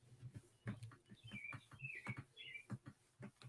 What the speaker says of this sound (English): Do you hear the birds outside?